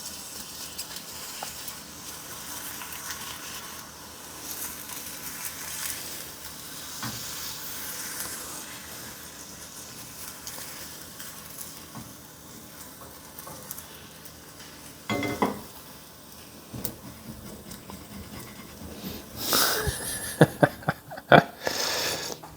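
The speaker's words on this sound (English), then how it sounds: "Maybe I can scrape underneath it." A spatula scraping stuck food off a Darto carbon steel pan, soft sizzling and faint scrapes at first, then louder bursts of harsh metal scraping and clatter toward the end.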